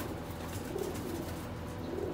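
Sialkoti pigeons with green necks cooing softly in a loft, low muffled coos repeating under a faint background hum.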